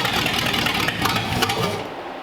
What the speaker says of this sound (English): It sounds like it's idling high enough